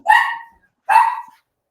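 A dog barks twice, loud and close, the two sharp barks a little under a second apart, reacting to a knock on the door, with no one speaking.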